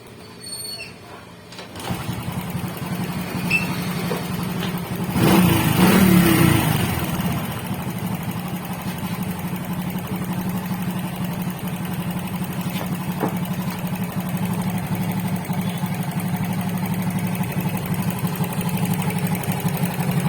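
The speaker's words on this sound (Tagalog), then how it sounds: "Maingay yung makina, no?" A Honda XRM 125 motorcycle engine, still noisy after a new block, piston and rings, runs steadily and loudly throughout, with a steady low hum and a brief surge of revving early on.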